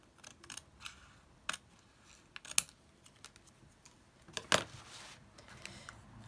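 Scissors trim paper gift-box cutouts on a December journal page, a handful of sharp, close snips spread irregularly among soft paper handling, with one louder cluster of cuts near the end.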